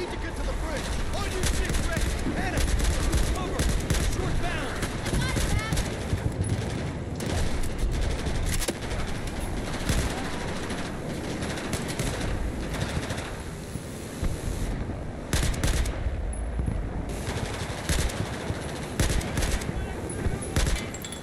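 Gunfire in the Battlefield 4 game during a fight defending a ship, dense and loud with rapid automatic bursts and shots layered over constant rumble, while players talk throughout.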